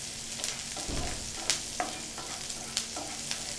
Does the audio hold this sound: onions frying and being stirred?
yes